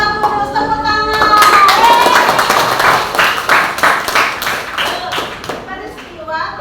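Classroom clapping from pupils during a religion lesson about Pentecost, a burst of quick claps from a group of children that builds and then thins out, with voices talking over it.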